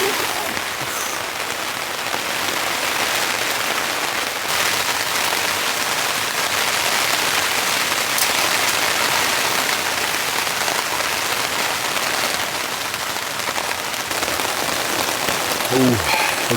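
Heavy rain drums hard and continuously on a camping tent during a wind storm, a dense, close patter filling the whole stretch with faint scattered knocks.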